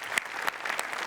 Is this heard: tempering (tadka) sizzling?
no